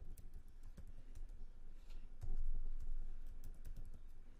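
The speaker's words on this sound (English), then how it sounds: "So for that, I'm gonna type" Typing on a computer keyboard, a run of quick, irregular key clicks at moderate distance, light and continuous with a brief louder patch midway, no voice over it.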